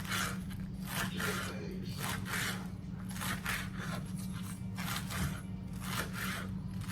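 A knife slices rolled collard greens into ribbons in quick, repeated crisp cutting strokes, several per second, close and fairly quiet over a low background hum.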